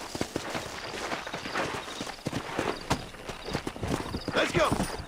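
Horse hooves clip-clopping in uneven, close steps with a neigh toward the end, from the video game GTA da Roça, loud and busy over game background noise.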